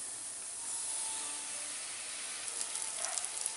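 Hot oil sizzling in a heated clay pot (mann chatti) while cooking dried fish thokku in a village kitchen: a soft, steady hiss that turns into scattered spitting crackles near the end.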